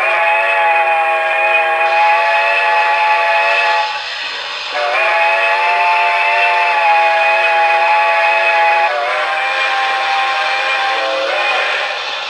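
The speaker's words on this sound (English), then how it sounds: "I bought it for the quillable whistle." A Broadway Limited M1B model steam locomotive sounds its quillable whistle, a loud, close, sustained chord held about four seconds, briefly cut, then blown again for several seconds as the pitch and tone shift with the quilling.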